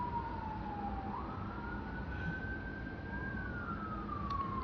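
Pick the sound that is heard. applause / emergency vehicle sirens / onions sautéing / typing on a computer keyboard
emergency vehicle sirens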